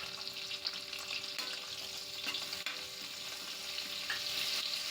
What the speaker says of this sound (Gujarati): ના લસણને પણ હું 1 મિનિટ માટે સાતળી લઈશ.